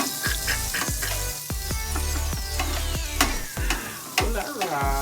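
Garlic frying and sizzling in a pan as it is stirred: a loud steady sizzle with repeated sharp scrapes and knocks of a utensil against the pan, close and without talk.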